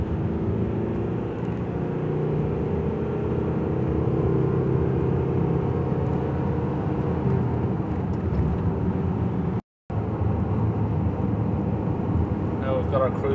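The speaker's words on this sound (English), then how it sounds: "Going to give it some full acceleration." Car engine droning steadily under full acceleration on a test drive after EGR valve, intake manifold and turbo cleaning, with a continuous low rumble throughout and a brief dropout near the end.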